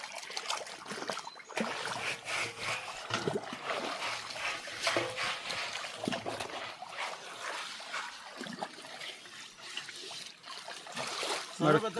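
River water trickles and splashes close by, with uneven bursts of splatter and a continuous flowing wash while people talk and move around in it.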